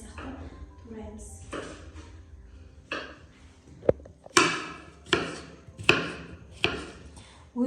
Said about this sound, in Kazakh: Тимізді дәл жаңа баклажан сияқты тураймыз.